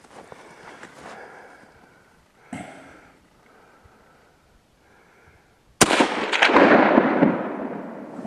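A Mosin Nagant 91/30 rifle fires one loud, sharp shot with a long ringing decay, after several seconds of quieter handling noise and a smaller thump.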